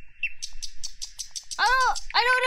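Bird chirps from a video game: a quick run of short, repeated tweets followed by two louder, drawn-out warbling calls, clear and up close.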